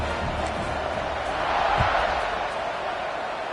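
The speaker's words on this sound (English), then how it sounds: "this crowd is buzzing after that last score" A football stadium crowd in a video game buzzes as a dense, steady roar of many voices just after a score, swelling slightly in the middle.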